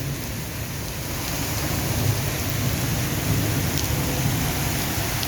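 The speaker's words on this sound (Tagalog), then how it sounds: "Ang sarap pag umuulan dito." Heavy afternoon rain in the UAE pours steadily in a dense, even hiss, with a low rumble underneath and no voices.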